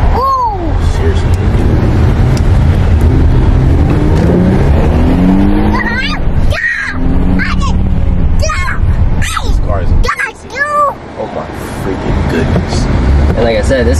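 A 2020 Infiniti Q50 drives and accelerates on the road, its engine note rising and falling in pitch behind loud cabin conversation that runs through most of the stretch.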